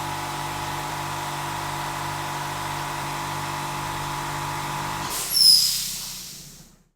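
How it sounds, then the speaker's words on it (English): An air compressor for powder coating vintage parts hums with a steady, low mechanical drone, then releases a short, loud hiss of air near the end before falling silent. "we'll wait for the compressor to do its thing"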